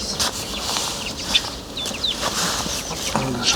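Hens clucking while being fed in spring, soft scattered clucks and short chirping calls over steady farmyard background noise.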